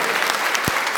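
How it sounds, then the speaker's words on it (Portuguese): Church congregation clapping together during a celebration service, a dense, steady wash of applause filling the whole moment with one deeper thump partway through. "vamos dar uma salva de palmas"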